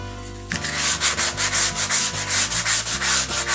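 Olive wood is sanded on a spinning lathe, a motor hum beneath rhythmic abrasive rubbing strokes that swell and fade repeatedly.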